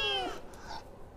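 A single short, close meow from one of a group of newly acquired pet cats, falling in pitch and followed by a faint breathy trailing sound.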